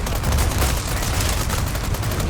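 Gunfire in the video game Resident Evil 4 Remake: a dense, rapid stream of shots and booms with a continuous rattling texture, loud and sustained throughout.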